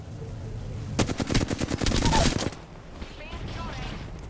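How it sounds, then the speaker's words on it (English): Rapid automatic gunfire in the Apex Legends video game, a dense burst of about a dozen shots over a second and a half, with background game noise and faint speech around it. "Taking fire, brothers."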